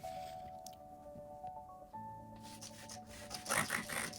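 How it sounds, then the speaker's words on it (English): A Liquitex blending brush pushing acrylic paint around on canvas, giving soft, close, quiet squishing and scraping strokes that grow louder and denser near the end, over faint background music and no talk. "I'm just moving the paint around on the canvas."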